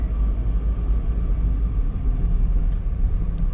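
Steady low rumble of road traffic as a motorcycle and a car pass nearby, a continuous engine drone without distinct peaks.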